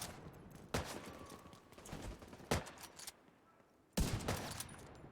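Three loud, sharp sniper rifle shots ring out in the shooter game True Combat: Elite, each a sudden broadband crack with a short fading tail, spaced a couple of seconds apart over low ambient game noise.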